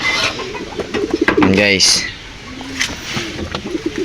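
Racing pigeons in a breeding loft give soft, throaty coos close by, heard in between and under someone speaking.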